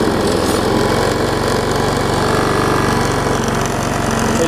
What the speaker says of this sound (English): I've got to tighten up the weed eater thing there